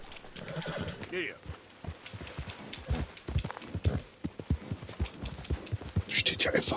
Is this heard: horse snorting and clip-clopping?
yes